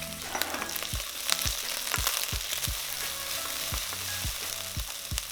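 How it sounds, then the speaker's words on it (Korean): Scallions and garlic stir-fry in hot oil in a wok for a vegetarian mala pasta, giving a steady close sizzle broken by about ten sharp spatula knocks at a regular, unhurried pace. "달궈진 팬에 파와 마늘을 넣고 볶아주세요."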